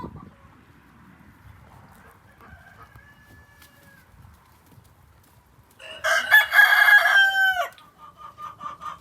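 A rooster gives one loud, close cock-a-doodle-doo among backyard hens, followed by a few short clucks, after several seconds of quiet rustling with a faint distant crow.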